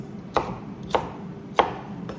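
A knife chops through a jalapeno with its seeds left in, four crisp, evenly spaced thuds on a cutting board with quiet pauses between.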